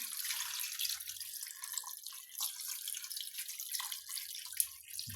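Water trickles and drips into a pan of chicken sauce as it cooks, a steady light pouring with faint splashes, close and alone without any voices.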